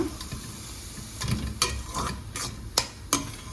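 A ladle stirs and scrapes rice and jaggery puttu in a pan off the heat, giving soft, quiet scraping strokes with a few sharper clinks of metal against the pan.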